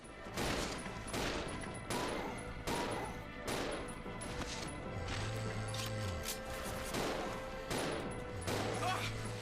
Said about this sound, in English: These zombies take too many shots.